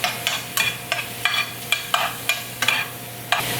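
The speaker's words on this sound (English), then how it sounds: "Once the pan is hot, I'm just gonna go ahead and put a few shrimp in there. Now I'm gonna take a little bit of butter" Shrimp with a little butter in a hot pan, sizzling steadily as a utensil scrapes and stirs in regular, evenly spaced strokes roughly every third of a second, close and clear with no talking.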